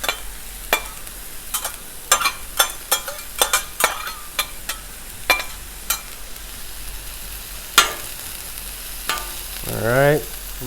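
Vegetables sizzle in a hot pan alongside sausage for a breakfast quesadilla: a steady close frying hiss punctuated by repeated scraping and clacking stirs, with a louder rising sizzle near the end.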